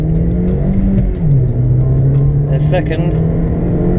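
A Vauxhall Astra accelerates hard from a standstill on a timed 0-60 run, with a loud, steady engine drone and a brief gear-change dip, plus a little wheel spin; a voice speaks briefly over it.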